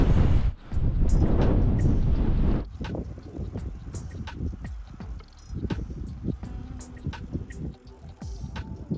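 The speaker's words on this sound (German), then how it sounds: "Frischt der Wind wieder auf." Wind gusts on a mountain road in Tenerife, buffeting the microphone in loud rushes that rise, drop and return, with scattered sharp clicks and rustles.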